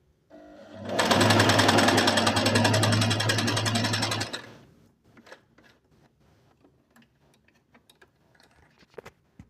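A Singer Inspiration sewing machine runs in one steady, loud burst of fast stitching lasting about three seconds, then stops, leaving light handling clicks and taps.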